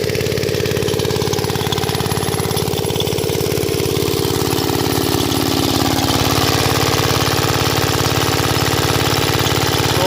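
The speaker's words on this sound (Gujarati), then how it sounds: "તો આપણે જો પાછું મશીન ચાલુ કરી દીધું" A loud, steady Rajkot-made irrigation pump engine chugs continuously with a rapid, even pulse, running alone and up close with no voices.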